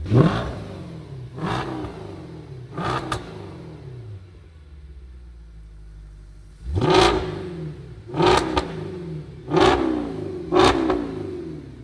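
Aggressive revving from a BMW M3 V8, several sharp throttle blips rising and falling, then a short lull before another series of loud, close revs.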